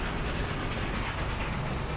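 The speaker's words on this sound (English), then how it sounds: "Train comes into here." A train pulling into a station in the game Train Fever, a steady, continuous low rumble with a rolling rail texture, evenly loud throughout with no voices.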